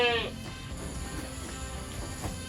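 Goats bleat over a farm pen while being fed silage, one clear high cry at the start followed by low shuffling and background noise.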